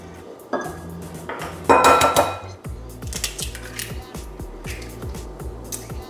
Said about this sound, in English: We're going to add some eggs.